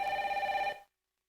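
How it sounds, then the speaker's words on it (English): A telephone bell rings briefly indoors, a rapid rattling metallic trill heard once, fairly quiet, then cutting off into silence. "The phone."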